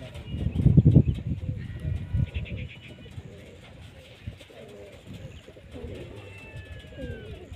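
Pigeons kept by pigeon fanciers in Punjab, Pakistan coo with low throaty pulses, strongest near the start and softer later, while people talk nearby.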